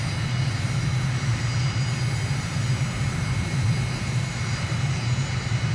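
Airplane engine in Microsoft Flight Simulator after takeoff from N'Djamena, Chad, a steady continuous droning hum with a low throbbing drone, even and unbroken, with no talking.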